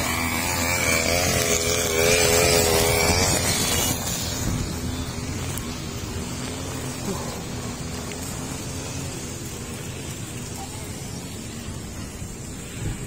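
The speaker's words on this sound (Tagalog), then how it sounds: "Grass cutter." A grass cutter runs with a steady, buzzing two-stroke engine drone, loud and continuous throughout, slightly stronger at first then holding level, with no talk over it.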